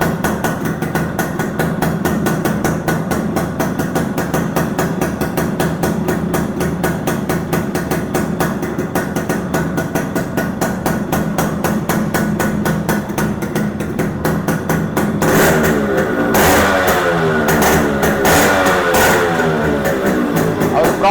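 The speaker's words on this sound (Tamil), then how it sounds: "வெஹிக்கிள் ஸ்டார்ட் ஆயிடும். ஸோ எக்ஸாஸ்ட் நோட் கேளுங்க." A restored Yamaha RX100 two-stroke motorcycle idling up close, its exhaust giving a fast, even popping beat, then revving with rising and falling pitch in the final seconds.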